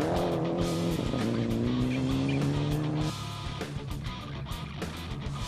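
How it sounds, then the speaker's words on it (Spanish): A race car engine is held at full throttle near 230 km/h, a loud sustained roar with a steady high pitch, then cuts abruptly to a rougher, lower, harder sound as the car brakes hard, with tire noise. "Con el motor a fondo aquí alcanzamos los 230 km por hora. Y es capaz de clavarse en la frenada"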